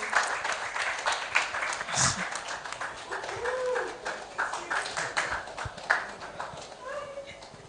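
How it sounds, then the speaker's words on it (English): Audience at a film festival fashion-and-film panel session applauds as a panelist enters, continuous clapping with scattered voices mixed in, moderately loud and rising and falling in waves. "so a round of applause as she makes her way boldly into the room"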